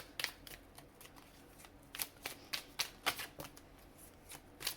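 Tarot cards being shuffled give a series of quick, crisp riffling flicks in irregular bursts, close and fairly quiet, with no talk over them.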